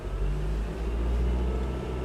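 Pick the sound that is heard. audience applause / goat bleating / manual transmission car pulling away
manual transmission car pulling away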